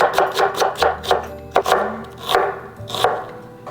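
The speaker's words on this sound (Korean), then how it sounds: "양파 한 개 썰어 주었습니다" A knife chops a whole onion on a cutting board, about a dozen crisp, close knocks in a quick uneven rhythm with brief pauses, loud and with no talking.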